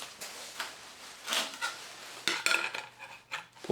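Flange nut being removed by hand from a Milwaukee M18 Fuel CAG 125X angle grinder, heard as several close, sharp metallic clicks and clinks in a quiet room with no talk.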